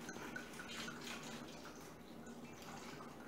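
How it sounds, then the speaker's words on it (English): Red Chianti wine is poured over a spice-rubbed beef roast, a faint, steady trickling and splashing of liquid at low level with no talk. "I'm gonna basically pour this wine over it"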